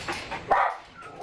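A two-year-old racing greyhound barks once, a sharp close bark in the middle of a short stretch, with a softer yelp before it and quiet kennel noise around it.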